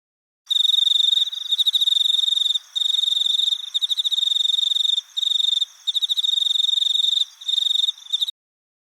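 A crickets-chirping sound effect: a continuous high-pitched trill, alone and steady, with brief pauses between bursts.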